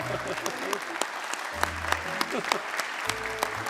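Applause from a studio audience at a Turkish TV quiz show rolls on for several seconds, sharp individual claps standing out from the dense wash, with voices and laughter beneath it.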